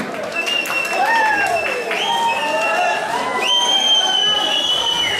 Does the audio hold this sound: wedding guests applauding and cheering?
yes